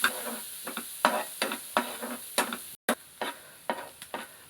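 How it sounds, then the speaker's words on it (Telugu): Onions fry in melted butter in a pan while a spatula stirs them in regular, sharp strokes over a constant sizzle, with one brief break in the sound. "బటర్ కరిగిపోయిన తర్వాత ఆనియన్స్ వేసుకొని ఫ్రై చేసుకుని"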